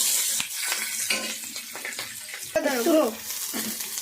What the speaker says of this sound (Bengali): পেঁয়াজগুলো লাল লাল করে একটু ভেজে নিয়ে